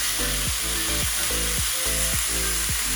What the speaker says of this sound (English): Then we're going to go ahead and we're going to add our pork.